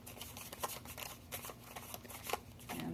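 Tarot cards from a Hermetic deck being shuffled by hand, giving soft repeated riffling and sliding flicks with irregular rhythm, close and fairly quiet, without talk.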